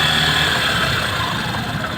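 A Yamaha YTX 125 motorcycle engine idles steadily close by, a continuous low rumble with faint vibration and no throttle changes.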